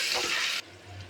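Onions, ginger-garlic paste and tomatoes sauté in a pan with a loud, dense hiss that cuts off abruptly after about half a second, leaving a low hum.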